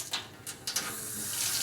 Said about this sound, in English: So the first thing you're going to do is turn on the water